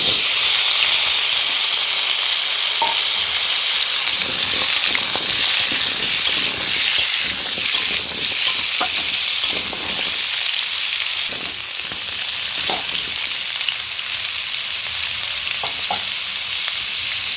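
Pumpkin and potato pieces fry with green chillies and salt in a pan for a vegetarian dish, a loud, constant close sizzle and hiss with occasional soft clicks of stirring.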